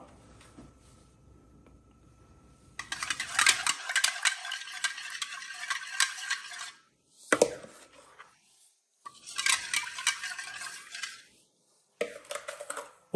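A spoon stirs salt into Ugadi pachadi in a bowl, making gritty scraping bursts that start and stop several times with short quiet gaps between them, close and fairly soft.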